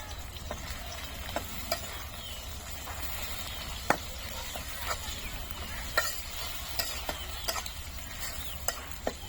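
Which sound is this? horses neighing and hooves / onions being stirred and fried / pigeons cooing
onions being stirred and fried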